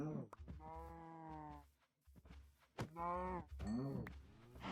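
Cows in Minecraft give repeated low, drawn-out moos, several calls in close succession, fairly near and clear.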